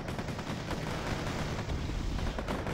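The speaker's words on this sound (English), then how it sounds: "using its 20mm cannon to get a fight" The 20mm cannons of a vehicle fire in Wargame AirLand Battle, heard as dense, continuous rapid gunfire mixed with distant battle rumble.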